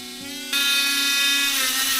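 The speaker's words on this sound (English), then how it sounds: "Use that cutting bit to clean up some of my corners and edges before I get ready to sand down the stick." A rotary tool spinning a cutting bit against a wooden rattlesnake walking stick, a steady high whine that starts quietly and then jumps louder as the bit bites into the wood, holding close and continuous.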